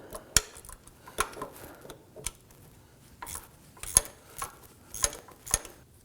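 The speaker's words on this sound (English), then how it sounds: "I'm going to go ahead and loosen and remove this bolt here." Ratchet working a torque strut mount bolt loose on a 2008-2011 Ford Focus, heard as a string of close, sharp clicks and metallic rattles in irregular bursts, with no talking.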